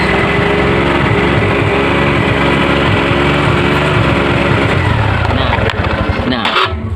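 A Honda Revo motorcycle engine runs loud and close at a steady, buzzing idle, then sputters and cuts out near the end as the battery is disconnected.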